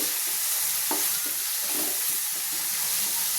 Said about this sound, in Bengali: আগে রসুনটা একটু পেঁয়াজে ভেজে নিচ্ছি